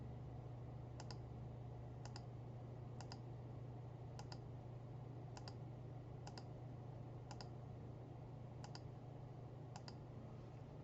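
Computer mouse clicks at a steady pace of roughly one per second, about ten sharp, faint ticks over a low constant hum, with no talking.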